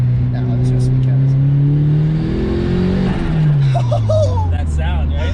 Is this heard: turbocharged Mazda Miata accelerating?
yes